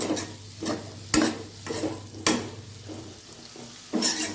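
Bitter gourd pieces fry in a pan, a loud, steady sizzle under a low hum, broken by rhythmic stirring scrapes and clanks of a spoon against the pan every second or so, with no talking.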